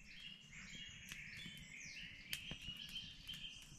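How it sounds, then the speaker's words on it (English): Birds coming in to roost at dusk call and chirp in quick overlapping bursts at a bushcraft camp in the woods, fairly quiet and distant, with a few sharper nearby calls. "Listen to the bird activity. They're all coming into roost because it's getting dark."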